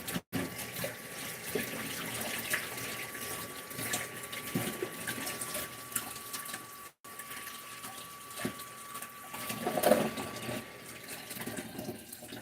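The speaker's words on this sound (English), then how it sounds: "let me rinse some of this stuff off, including my hands" Water runs steadily from a kitchen tap while someone rinses their hands at the sink, a continuous close splashing hiss with small shifts as the hands move through the stream.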